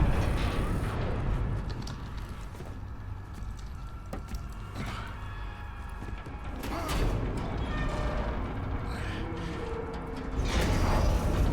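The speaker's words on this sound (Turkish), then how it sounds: "Aha açtık kapıyı." Door mechanism in The Callisto Protocol video game, a mechanical grinding and creaking opening sequence with metallic clanks, fairly loud over a dense ambient game background.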